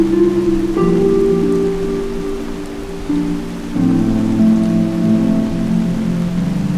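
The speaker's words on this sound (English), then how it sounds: "I wake up to a pouring rain" Heavy rain pours steadily in Skyrim, a loud unbroken wash of falling water layered with soft tonal ambient music that shifts partway through.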